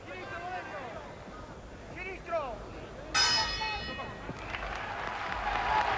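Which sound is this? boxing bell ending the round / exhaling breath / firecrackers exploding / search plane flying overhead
boxing bell ending the round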